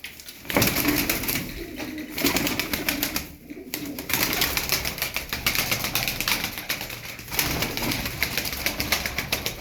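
Soft coos and calls from a flock of thirteen tumbler pigeons over a steady, busy background hiss, with occasional wing flutters.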